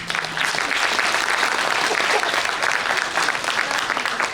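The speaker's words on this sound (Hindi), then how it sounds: "फिर ताली बजाएं इनके लिए।" Audience at a poetry recital applauding a poet, a dense, steady burst of clapping from a large crowd that continues throughout.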